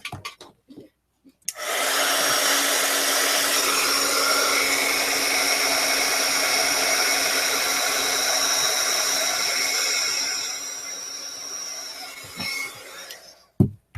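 A hair dryer blows steadily for about ten seconds over a watercolor painting, a loud even whir that starts abruptly and then fades out, with a few brief handling noises on either side.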